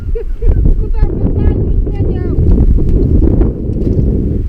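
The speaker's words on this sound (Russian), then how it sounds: "Ветер только, ветер!" Steady wind roaring across the microphone on a fishing trip, loud and continuous, with people talking over it throughout.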